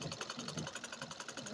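A sewing machine stitches a blouse placket in a quick, rhythmic run of needle strokes, close and fairly quiet, with no talk.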